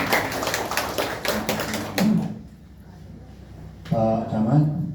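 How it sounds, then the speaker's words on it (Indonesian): Audience applause at a ceremony for a quality-family village assessment in Nagari Padang Sibusuk: a dense patter of clapping for about two seconds that fades out, then a voice begins speaking. "Berikan aplaus dulu."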